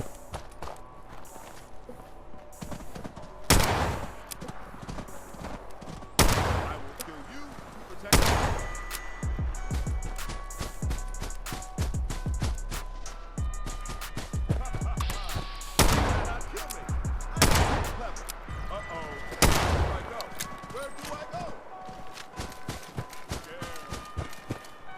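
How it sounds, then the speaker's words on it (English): Gunfire in Fallout 76 as players shoot at a ragstag creature: sharp, widely spaced shots amid footsteps and game ambience, with some talk in the mix. "There's some footage of them shooting a ragstag"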